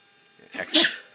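A single sharp human sneeze, close and fairly loud, building from a short intake to one explosive burst.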